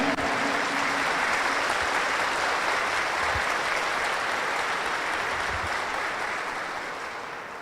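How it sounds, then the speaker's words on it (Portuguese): Sustained applause from a congregation during a Catholic Mass, dense and steady clapping that holds for several seconds before fading slightly at the end. "Dê uma salva de palmas para Jesus"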